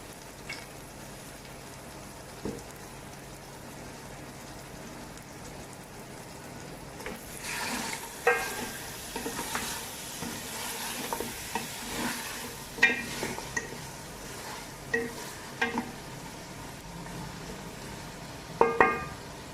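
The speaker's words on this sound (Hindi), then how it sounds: "अभी मैं इसमें मटन डालने लगी हूँ जो कि मैंने उबाल लिया था अच्छी तरह" Boiled mutton fries with spices in a pan under a faint, low sizzle, while a spoon stirs with soft scrapes and occasional sharp taps against the pan.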